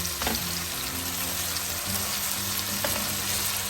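Onions fry in plenty of oil in a pan for biryani, a loud, dense sizzle throughout, with a couple of stirring scrapes and a low steady hum underneath.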